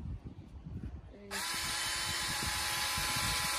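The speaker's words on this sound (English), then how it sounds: "So he's drilling a hole through the carrot." A power drill whirs up suddenly after some quiet shuffling and bumps, then runs in a steady high-pitched whine close by until the end, boring a hole through a carrot to make a flute.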